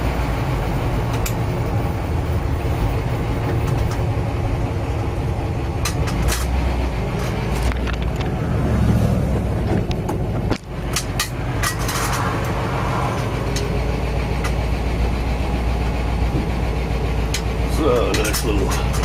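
A 1950 Oldsmobile wagon's engine idles steadily after pulling off onto a dirt road, a low continuous rumble that carries through the whole stretch while someone talks over it.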